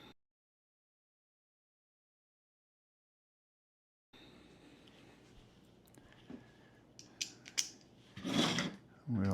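Ryobi 5A power tool battery case being unscrewed with a T10 Torx safety bit: after several seconds of silence come close, faint ratcheting clicks and creaks, then a few sharper scrapes and a louder burst near the end.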